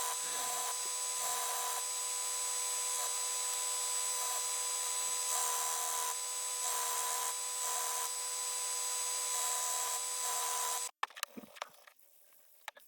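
Belt sander flattening the front of a small piece of scrap wood, a steady loud abrasive whine that runs without a break for about eleven seconds, then stops abruptly and leaves a few faint handling knocks.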